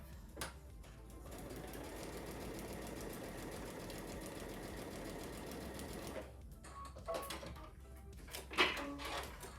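A sewing machine stitches along a line on a quilt panel, running in one steady, continuous whirring burst for about six seconds, then stopping; a few soft handling clicks and rustles follow.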